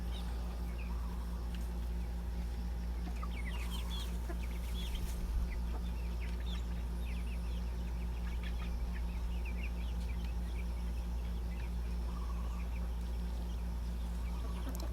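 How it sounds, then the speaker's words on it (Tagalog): Free-ranging backyard chickens on a farm in Bien Unido clucking inside a netted enclosure, scattered soft clucks and calls over a constant low hum, fairly distant and without talk. "Diyan lang paikot-ikot yung ating mga alagang manok mga lodi, dahil binakuran ko yan ng net."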